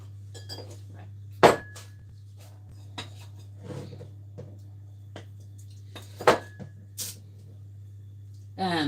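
Vanilla cupcake batter is scooped into paper cupcake cases, giving scattered light clinks and taps of a metal scoop against a tray at irregular intervals, with occasional quiet voices in a calm kitchen.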